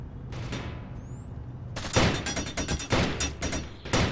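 Rapid bursts of automatic gunfire crack in an online Warzone match, several loud volleys stacking up close after a quiet stretch with a rising whistle.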